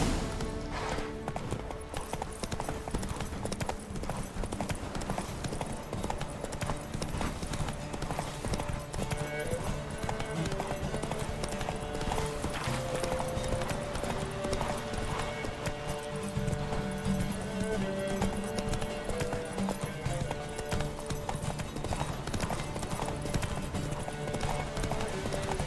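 Horse hooves galloping in the video game The Witcher 3, a continuous rapid clip-clop lasting throughout, with game music and occasional voices beneath.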